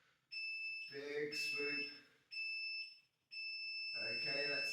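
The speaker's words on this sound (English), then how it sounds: "When that buzzer starts" A workout interval timer buzzer sounds in three sustained electronic tones with short gaps between them, while a voice speaks over it and nearly covers it.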